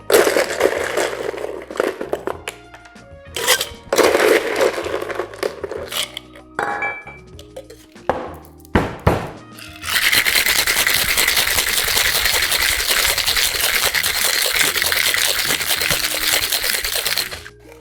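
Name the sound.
cocktail shaken with crescent ice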